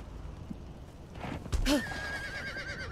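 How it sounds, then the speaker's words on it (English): A horse in the game Conan Exiles, Isle of Siptah, gives a sharp neigh after a few soft hoof thuds, the whinny trailing into a high, wavering tone against quiet ambience. "I'm just parking my horse up here at the torch thingy"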